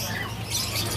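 Jala kebo birds at the Pramuka bird market, a busy mix of chirps and squawks over a low steady hum of market noise, continuous and moderately loud.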